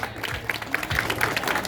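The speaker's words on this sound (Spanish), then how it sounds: "Aplauso, público." Audience applause greeting a young woman's entrance at a coronation ceremony, a steady spread of clapping that holds through the short stretch at moderate level.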